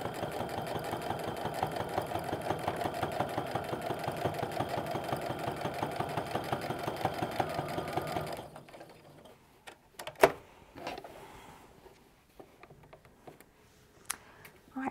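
A sewing machine stitches an apron in a steady, fast rhythmic run of needle strokes for about eight seconds, then stops, leaving a quiet room with a few faint clicks and handling noises.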